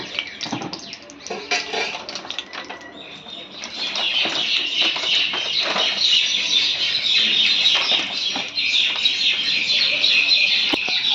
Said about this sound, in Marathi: माझ्या सोबतीला छान पक्ष्यांचाही किलबिलाट आहे